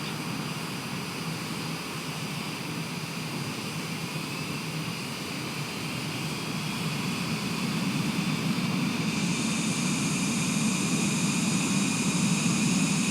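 A light airplane flying from Boston toward Albany after the autopilot is switched off, with a steady droning cabin engine hum that grows slightly louder and heavier partway through, no talking.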